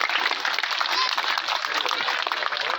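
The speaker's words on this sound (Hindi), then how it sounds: "सभी लोग जोरदार तालियां बजाइए भैया, सभी लोग जोरदार तालियों के साथ स्वागत करिए।" A crowd claps together at a mass Buddhist wedding of twelve couples in Unnao, a dense, steady wash of applause that carries on throughout without a break.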